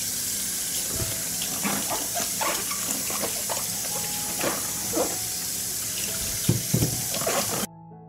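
Tap water runs steadily into a sink while fresh peppers are washed under it, with small splashes and clatters of the peppers against the stream, close and fairly quiet, stopping abruptly near the end.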